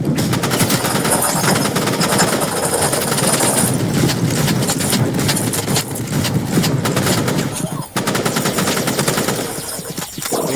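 Automatic gunfire in a video game rattles in rapid, continuous bursts, loud and close, with a brief break near the eighth second before the firing resumes.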